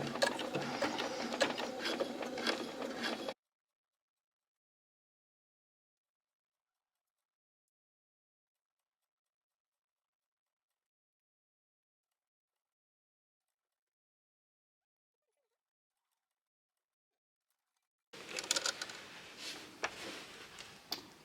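A sewing machine fitted with a zipper foot stitches a replacement zip into jeans in two short bursts of rapid mechanical clatter, separated by a long stretch of silence.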